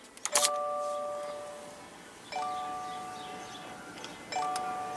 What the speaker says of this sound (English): And you have that key chime that is on the new WRX.